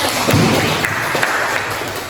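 A group claps together in a steady patter of applause that gradually fades out.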